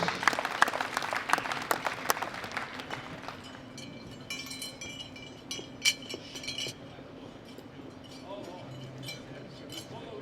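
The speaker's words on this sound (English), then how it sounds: "Round of applause for all of our winners." Applause and clinking noise from a crowd honouring the winners at a classic powerlifting world championship, loudest at the start and fading to scattered claps and clinks, with a voice over a loudspeaker.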